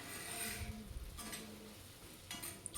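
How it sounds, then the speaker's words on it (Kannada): Potatoes fry in a pan over a high flame, giving a steady soft sizzle with faint stirring and scraping clatter on top, close and continuous throughout. "ಪೊಟ್ಯಾಟೊನ ಒಂದು 3-4 ನಿಮಿಷ ಈ ಥರ ಹೈ ಫ್ಲೇಮಲ್ಲಿ ಇಟ್ಕೊಂಡೆ ಈ ಥರ ಫ್ರೈ ಮಾಡ್ಕೊಳ್ತಾ ಇರಿ"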